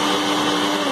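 A blender whirs in a brief, continuous burst while chopping onion and garlic, a loud close motor drone with no break.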